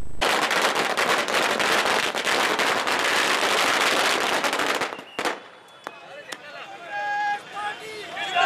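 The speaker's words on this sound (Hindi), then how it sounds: "बिहार विधानसभा युवक कांग्रेस द्वारा आतिशबाजी की गई" Fireworks and firecrackers set off at a Youth Congress celebration in Beawar burst as dense, loud crackling strings for about five seconds, then give way to scattered pops and sharp bangs with voices around them.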